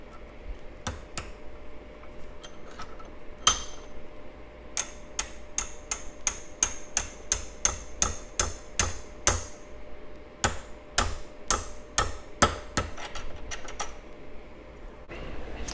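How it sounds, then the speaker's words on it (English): Sharp metallic hammer taps driving a wheel bearing piece into place on a Coleman mini bike repeat in a steady, fairly quick series, some louder than others, with brief pauses between bursts over a low background hum. "we'll just hammer it on down to where this piece comes about right here"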